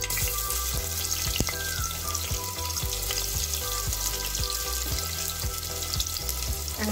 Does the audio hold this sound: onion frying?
yes